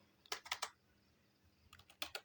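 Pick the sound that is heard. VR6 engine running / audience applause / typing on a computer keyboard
typing on a computer keyboard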